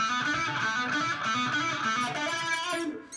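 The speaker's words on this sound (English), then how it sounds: "he kind of messes with the wah wah pedal a little bit" A distorted electric guitar plays a short lick, its tone sweeping and vocal-sounding as a wah pedal rocks, loud and alone, fading at the end.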